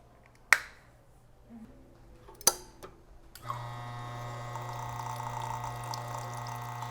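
Water drains from the boiler tubing of a La Marzocco Linea Mini espresso machine into the drip tray. A few sharp clicks come first, then a steady hissing trickle flows, close and fairly quiet.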